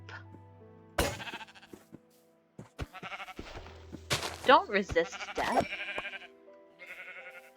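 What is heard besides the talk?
sheep bleating in a video game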